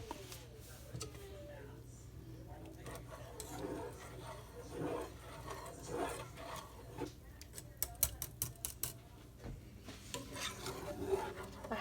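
A spoon stirs broccoli cheddar chicken soup in a cooking pot, giving soft scraping and occasional clinks against the metal. Quiet background noise sits under the stirring.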